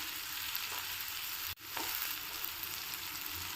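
Chopped onion and tomato fry with turmeric in a pan, giving a steady close sizzle with stirring scrapes and a brief break partway through, and no voices.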